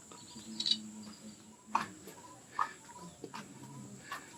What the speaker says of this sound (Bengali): মানে রাস্তার দুধারে খালি পাখি